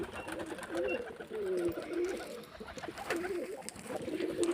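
Pigeons coo in a loose, repeating series of low, rounded, throaty calls, close by and fairly steady throughout.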